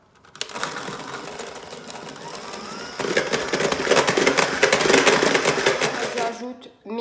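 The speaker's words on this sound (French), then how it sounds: "Et je viens mixer." An electric mixer whips sugar and eggs into a foam for tiramisu, a steady whirring drone that starts abruptly, grows louder and busier midway, then cuts off near the end.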